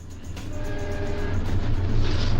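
An eastbound South Shore interurban coach train of orange 1929 steel cars rounds a curve, a steady, loud rumble of wheels and running gear that swells slightly toward the end, with faint squeal overtones and no voices.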